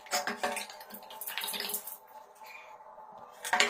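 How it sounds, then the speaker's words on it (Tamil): Water is poured out of an unused, faulty electric motor, splashing and trickling unevenly for several seconds, close by, with a louder gush at the end. "இந்த பகுதியில் உள்ள தண்ணியை மேல் பகுதி வழியா வெளியே எடுத்துருங்க"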